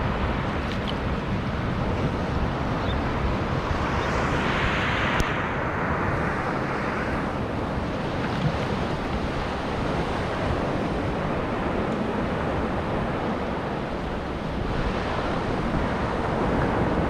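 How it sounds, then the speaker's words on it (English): Surf washing onto a Thailand beach at sunrise, a steady broadband wash of waves with wind noise on the microphone, continuous and fairly loud throughout with no clear breaks between swells. "Good morning from Thailand Beach."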